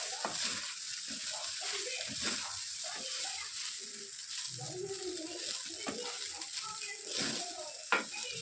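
Masala vegetables and egg rice are stirred in a frying pan, with a continuous sizzle broken by repeated scraping strokes and scattered light clinks of the spoon against the pan, all up close.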